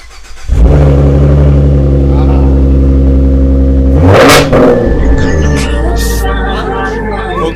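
Ford Mustang V6 facelift convertible starting up from cold, a loud engine catch followed by a steady idle and a sharp rev burst, with people talking nearby.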